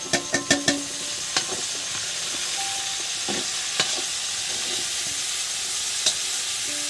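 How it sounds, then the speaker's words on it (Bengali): Chopped onions fry with garlic in a pan, cooked outdoors for a village-style Kashmiri aloo dum. A few sharp spoon clinks open the clip, then a steady close sizzle continues with occasional stirring taps. "কুচি কুচি পেঁয়াজগুলো আমি দিয়ে দিচ্ছি।"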